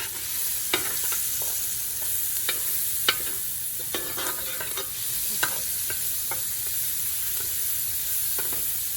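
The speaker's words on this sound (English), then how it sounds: "I'm gonna add my onions." Medium onions sizzle in a hot pan on high heat for jambalaya, giving a constant close hiss broken by sharp scrapes and clicks as a spoon stirs and pulls up browned bits from the bottom.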